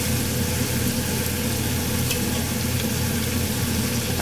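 Eggplant roasts and sizzles in a pan for baingan bharta, a steady, close frying hiss with stirring and no voices.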